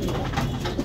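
A native dove gives a brief, low, mellow coo at close range, heard alone.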